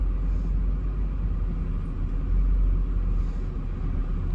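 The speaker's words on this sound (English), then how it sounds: "My personal one is very aggressive and loud because I have the all four catalytic converters removed and the resonators are removed." Deep, steady exhaust rumble from a Mercedes SL55 AMG with all four catalytic converters and the resonators removed, only mufflers kept, idling or crawling in traffic; a loud continuous low drone with no sharp revs.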